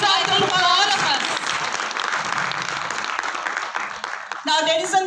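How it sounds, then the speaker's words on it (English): Audience applause and cheering at a movie premiere for the film Main Mulayam, a sustained dense crowd clapping with voices mixed in, dipping briefly before swelling again near the end. "A big round of applause, I think, for all of us."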